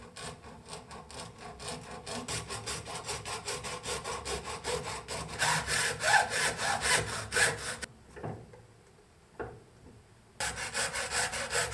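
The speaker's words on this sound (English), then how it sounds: "for cutting the pipe, I'm taking my hacksaw and I try to cut the pipe as straight as possible" A hacksaw cuts through a pipe with fast, even back-and-forth strokes, loud and close, briefly pausing with a couple of scrapes before the sawing resumes.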